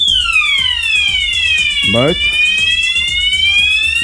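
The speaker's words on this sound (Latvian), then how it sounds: "bļauj ugunsdzēsības signalizācija" A fire alarm blares loudly inside a ski-resort accommodation building in Bialka Tatrzanska, Poland, a steady piercing electronic siren with a sweeping pitch that rises and falls, continuous throughout while a voice speaks briefly over it.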